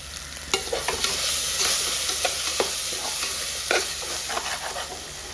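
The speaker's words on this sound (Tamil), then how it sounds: "நல்லா வதங்கிடுச்சு இஞ்சி பூண்டு பேஸ்ட் எல்லாம் போட்டு." Ginger garlic paste sautéing in a pan over a low flame, stirred steadily: a constant close sizzle broken by repeated scraping strokes of the spoon, with no talking.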